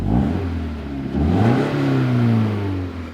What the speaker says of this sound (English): It's got a good tuned exhaust on it.